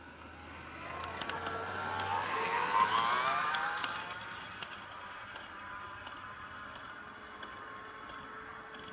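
A Life-Like Proto 1000 RDC-1 model train runs along the track, its motor whine rising as it approaches and swells loudest near the middle, then settles into a steady lower hum as it moves on.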